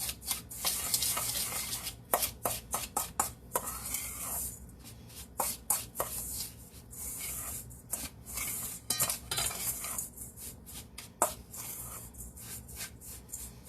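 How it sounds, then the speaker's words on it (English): Dry crumbs being stirred into butter in a bowl for a lemon chiffon pie crust, giving a run of soft scraping and clinking strokes that repeat irregularly at close range, with no voices. "So I mix it all around to make sure I get all the dry crumbs, mixed in with the butter here."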